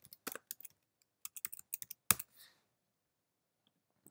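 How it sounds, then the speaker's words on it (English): Typing on a computer keyboard while entering code comments for a text adventure program, heard as irregular bursts of close, crisp key clicks that stop near the midpoint and leave near silence. "So I'll just type in"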